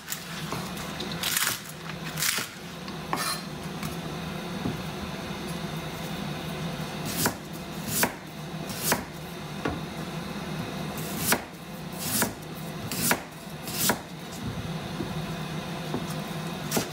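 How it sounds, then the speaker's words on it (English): Onion and ginger being chopped on a board for double cooked pork belly, a series of sharp knife strikes in irregular bursts, close and fairly quiet, with no talking. "I cut some onion. Use this one. And some ginger."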